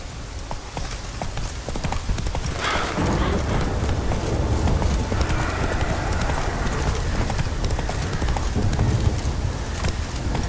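Roach the horse gallops in The Witcher 3, a continuous rumble of hooves under a thick, noisy wash that swells after the first couple of seconds and holds steady and loud.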